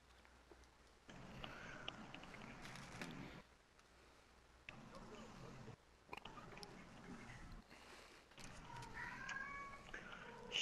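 A cat meows a few times indoors, faint and intermittent between quieter gaps, with low background noise and no clear talk.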